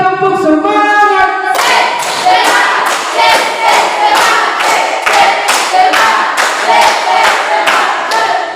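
A group claps in unison, sharp regular beats in a steady rhythm, loud and close, following a brief stretch of voices or tones.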